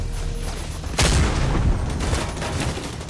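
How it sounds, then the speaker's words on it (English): Mortar strikes in the shooter game The Division 2, a sudden heavy blast followed by rumbling, crackling explosions and gunfire that keep rolling loudly for several seconds. "Mortar down."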